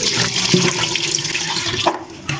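Water is poured off washed taro root in a home kitchen, a steady rushing, splashing pour that ends abruptly near the close.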